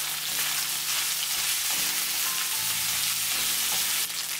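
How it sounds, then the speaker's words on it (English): Dried chilies and Sichuan peppercorns are stir-fried for kung pao chicken, making a loud continuous hissing sizzle close up with faint stirring scrapes, then cutting off abruptly near the end. "Add the chilies and the Sichuan peppercorns. Stir for 1 minute."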